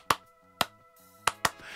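Hands clap four times, sharp and close, in an uneven rhythm: two spaced claps, then a quick pair, over a sustained musical tone.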